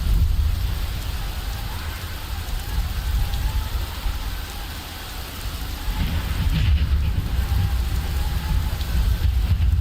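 Steady, heavy rain pours through the Fallout 4 game world, a loud, unbroken hiss with a low rumbling undertone throughout and no voices.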